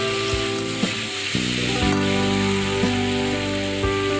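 Vegetable stalks fry in hot oil in a pan, making a loud continuous sizzle, with stirring clinks and scrapes along with some tonal kitchen hum underneath and no talking.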